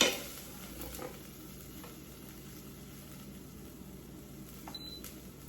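A single short electronic beep from an Instant Pot as cancel is pressed, sounding briefly near the end over a quiet background hiss of onions frying in the pot.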